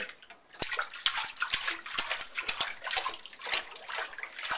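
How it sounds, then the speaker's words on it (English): A little boy splashes water in a bathtub, with a run of irregular slaps and sloshes, some sharp and close, over the steady wash of water, and no talking. "Jump around. Splash around."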